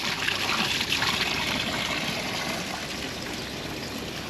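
Steady trickling and splashing cold fresh water from a small fountain in São Miguel, Azores, close and continuous, with a soft hiss throughout.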